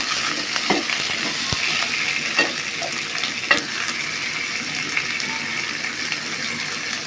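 Chopped tomato and spices fry in a pan with a constant close sizzle and hiss. Occasional spoon taps and scrapes are stirred in, with no voices over it.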